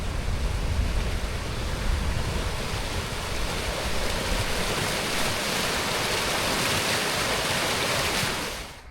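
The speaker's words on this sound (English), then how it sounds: "its very own water feature" Water feature rushing beside a canal, a steady broad roar of flowing, splashing water, close and constant, with no one talking.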